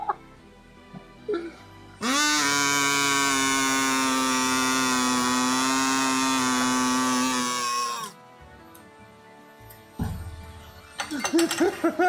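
A voice imitates a vacuum cleaner with a loud, steady droning buzz held for about six seconds, framed by brief bits of talk before and clattering noise afterward.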